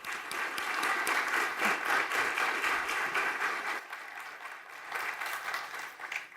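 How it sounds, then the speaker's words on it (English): Conference audience at the IDB Group's Knowledge Week session on sustainable infrastructure gives panelists a warm round of applause, steady dense clapping that holds for several seconds, then dips and swells briefly before tapering. "Let's give them a warm round of applause."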